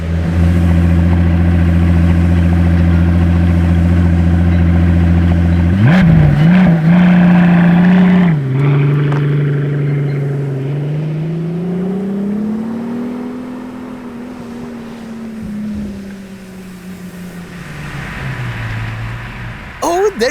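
Pagani Zonda 760 LH supercar engine at a car event: a loud, steady drone for several seconds, then sharp revs and a rising, shifting pitch as it passes close by, settling lower as it moves away.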